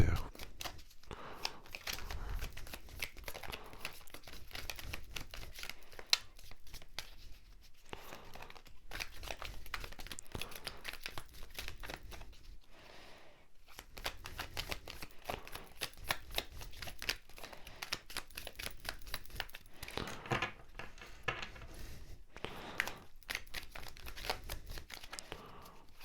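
Tarot cards are shuffled over and over for a long stretch, a dense papery riffling and rustling that comes in bursts with brief pauses, quiet and close.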